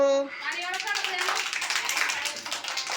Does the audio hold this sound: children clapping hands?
yes